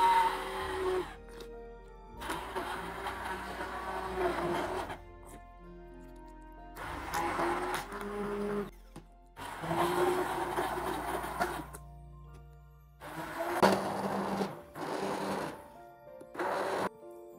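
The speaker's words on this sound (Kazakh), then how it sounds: "Бөлек ыдысқа салып, кез келген блендерден өткізіп аламыз" An electric blender purees fried beef liver pâté in bursts of whirring, starting and stopping several times with short pauses between, fairly loud and close with no talking.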